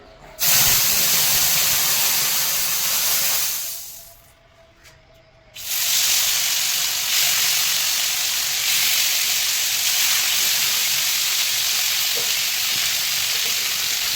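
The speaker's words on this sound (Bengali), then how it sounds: "এবার তাওয়া গরম হয়ে গেছে এবারে ইয়ে করবো কাটি কাবাবগুলো দেবো" Chicken kathi kebabs laid on a hot tawa set up a loud, steady sizzle that runs nearly throughout, broken by a brief quieter gap before the frying hiss returns strongly.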